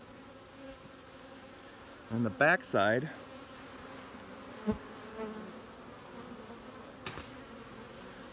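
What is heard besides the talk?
bees buzzing around a hive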